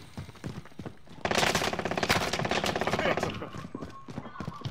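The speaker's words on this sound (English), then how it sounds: "I'm getting shot at from somewhere." Automatic gunfire in the Call of Duty: Modern Warfare video game: a dense, rapid burst of shots for about two seconds, loud and close, with players talking before and through it.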